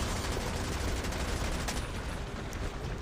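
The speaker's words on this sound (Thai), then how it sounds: "แบยิงปากมันอ้าปากรับกระสุนนะ" Dense, continuous gunfire in the Call of Duty Mobile video game while shooting at a zombie boss, sustained and loud for the whole stretch with rapid overlapping shots and no pauses.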